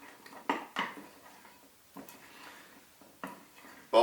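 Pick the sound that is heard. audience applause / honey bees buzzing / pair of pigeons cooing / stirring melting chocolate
stirring melting chocolate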